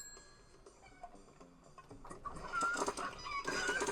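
Clucking chickens in an Oculus Go VR game where homing chickens serve as weapons, short sharp clucks and squawks scattered over ticking game effects, busier and louder in the second half.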